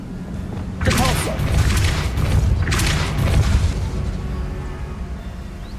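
Depulso force spell blasts in Hogwarts Legacy, two loud booming bursts close together, each with a rushing rumble that lingers under continuous game noise.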